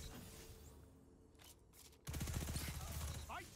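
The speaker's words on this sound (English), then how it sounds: "Now we're gonna try sticky nades." Sticky grenades detonate in the Mountaintop map of a shooter game, a quiet stretch with a couple of brief pops giving way to a loud, sustained burst of blasts and rattling gunfire-like bangs.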